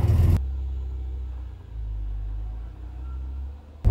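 A Ford Capri pulls away with a steady low engine rumble that stays loud and close throughout, dipping slightly midway before a sharper burst of noise at the very end.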